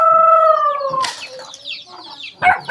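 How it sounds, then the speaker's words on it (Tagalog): Chickens being caught in a village yard squawk and cluck, with a burst of wing flapping partway through and another squawk near the end, close and loud. "Dakop na sila og manok mga katanski kay mag-ihog manok."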